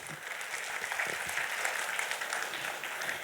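Applause from a conference audience, a dense steady wash of many hands clapping at moderate distance, fairly quiet and continuous for a few seconds.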